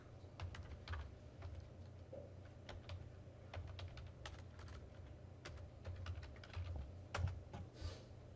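Someone types on a computer keyboard, a quiet irregular stream of soft key clicks running steadily throughout, alone without talk.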